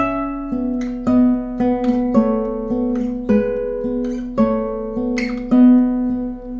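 Guitar notes played slowly one after another, with short bright string squeaks from fingers sliding along the strings popping up between several of the note changes.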